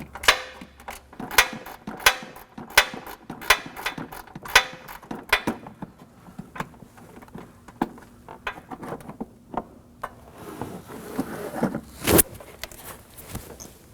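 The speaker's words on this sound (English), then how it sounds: "And now we remove the last bolt that's located on the inner part." A 10mm bolt being removed from a 2014-2020 Acura MDX, with bursts of rapid ratchet clicks, then lighter metallic handling and tool clinks nearby, no talk.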